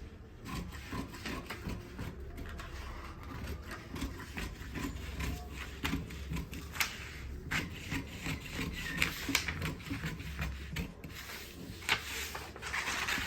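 Scissors cut through shirt fabric close by, giving a steady rough crunching and snipping texture with repeated short clicks of the blades, alone and without talk.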